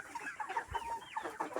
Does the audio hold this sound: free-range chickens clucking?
yes